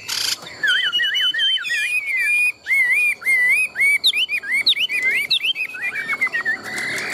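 A tame caged Chinese hwamei songbird sings a long, loud, close series of varied warbling whistles and rapid trills, phrases rising and falling with brief pauses, alone without talk.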